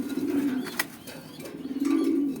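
Racing pigeons coo nearby, two low throaty rolling coos with soft rustling between them, close and moderately loud.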